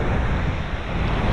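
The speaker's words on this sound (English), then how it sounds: "I am at the beach." Ocean surf rolls steadily onto a Southwest Florida beach while strong wind buffets the microphone, a continuous loud wash of breaking waves and gusting noise with no talking.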